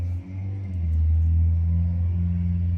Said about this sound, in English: That car was really loud.